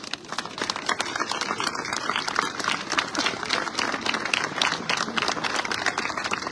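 Audience applause for race volunteers at the closing ceremony of La Grande Odyssée VVF 2024, a dense, steady clapping that holds at an even level throughout with no voice over it.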